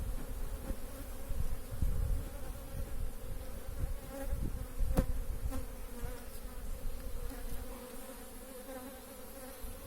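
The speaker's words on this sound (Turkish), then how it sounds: "hafiften rüzgar esince arılar rüzgardan etkileniyor, harekete geçiyor" A steady, dense buzzing of many honeybees swarming close around a hive in a light breeze, continuous throughout with occasional louder passes near the listener.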